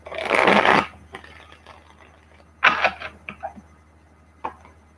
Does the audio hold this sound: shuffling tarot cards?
yes